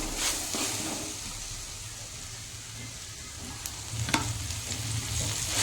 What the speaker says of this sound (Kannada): ಈಗ ಇವು ಚೆನ್ನಾಗಿ ಫ್ರೈ ಮಾಡ್ಕೊಳ್ರಿ.